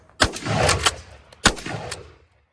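Two loud 12 gauge shotgun blasts from a Winchester 1300, firing 2.75-inch shells, about a second apart. Each sharp report is followed by a short rolling echo.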